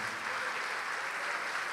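Steady audience applause at a church service, dense and continuous clapping filling the room throughout without pause.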